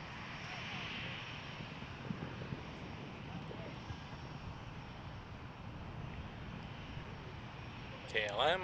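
A KLM airliner coming in to land at Toronto Pearson, its steady broadband jet roar filling the scene at moderate distance, with a brief louder burst near the end.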